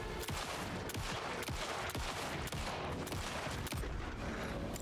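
Gunfire rings out in the Alan Wake 2 video game, a rapid, irregular volley of sharp shots, about a dozen over several seconds, loud and close with no talking over it.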